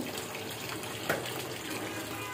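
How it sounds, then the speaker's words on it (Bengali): Chicken meat is rinsed under running water in a home kitchen before cooking, a faint, steady trickle and splash with a brief louder splash midway, no talking. "মুরগির মাংসটা রান্না করবো বলে ধুয়ে নিচ্ছি।"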